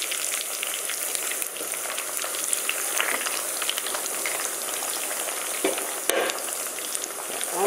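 Steady, loud sizzling of food deep-frying in hot oil, a dense crackle with occasional sharper pops, continuing without pause.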